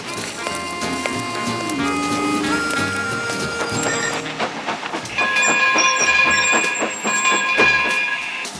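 A train rolls along a railroad with steady rumbling, hissing steam and high metallic squeals and rings, loud and continuous, the clatter growing denser in the second half.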